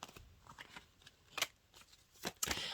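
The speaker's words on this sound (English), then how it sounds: "they're still shuffling. Not all the cards have come out." Tarot cards shuffled in a quiet room, a run of soft riffling flutters and crisp card snaps with louder bursts near the middle and end.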